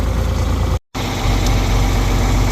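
A John Deere 4020 tractor engine idles steadily, a loud, close, low rumbling drone with a brief dropout partway through.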